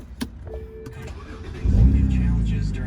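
A BMW 328i with a muffler delete starts up: a short cranking click and whir, then the engine catches with a loud low rumble that settles into a raw, throaty idle.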